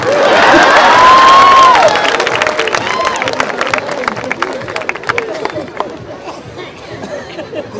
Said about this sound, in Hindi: ताली बजाओ भाई साहब, आप ही के लिए बोलो।